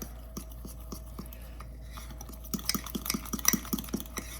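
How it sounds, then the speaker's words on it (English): A fork stirs mug cake batter in a mug, giving a steady run of soft, close scraping taps that grow louder and brighter toward the end, with no talk. "I'm just going to take a fork and we're just going to slowly and carefully stir that mixture"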